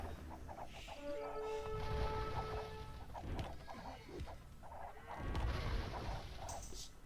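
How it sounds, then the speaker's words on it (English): Age of Empires battle game audio with mangonel siege shots: repeated thuds and impacts amid busy clashing combat noise and unit sounds, moderately loud and continuous, with no talking over it. "Some pretty good Mangonel shots coming in from DracKeN."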